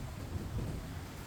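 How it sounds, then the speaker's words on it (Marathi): Steady heavy monsoon rain with a low rumble of thunder, a dense continuous wash of sound with no voices. "काय पाऊस चालू आहे."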